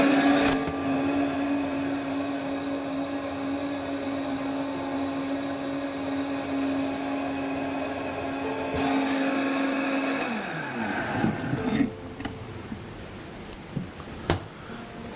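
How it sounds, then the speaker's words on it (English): Countertop blender whirring steadily through about a litre of immune-boosting elixir, a loud sustained motor drone that winds down near the end, followed by a few clatters and knocks with no talking. "we're going to make a nice blend of the whole thing"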